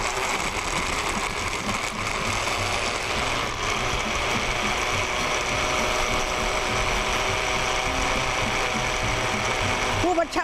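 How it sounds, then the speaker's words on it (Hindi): A blender runs continuously at full power while blending a beverage, a loud, dense, steady mechanical whirring that holds throughout. "खूब अच्छा ब्लेंड करेंगे।"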